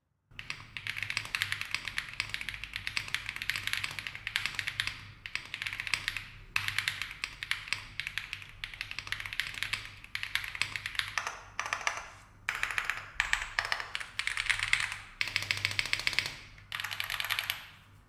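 Dense, steady typing on an EPOMAKER Galaxy68 keyboard fitted with creamy linear marble white switches, a continuous run of close, crisp keystroke clacks with a few brief pauses, no talking.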